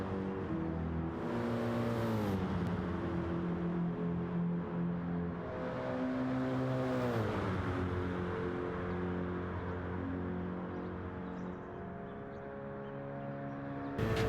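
A Group 3 race car in Gran Turismo 7 at Watkins Glen. The engine howls flat out and loud, its pitch climbing through the gears with quick shift dips, and no one talks.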